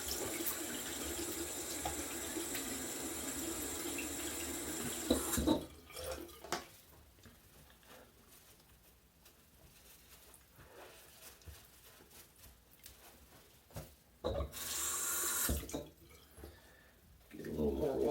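A bathroom tap runs into the sink during a shave, a strong continuous splash for several seconds that stops, then a brief second burst of running water later, with quiet handling sounds between.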